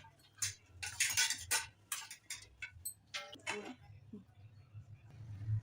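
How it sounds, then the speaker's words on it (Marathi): Maida bonda batter is hand-beaten in a bowl, giving soft irregular tapping and slapping strokes in quick bursts, close and fairly quiet, with someone talking intermittently over the beating. "5 मिनटं फेटून घेऊया."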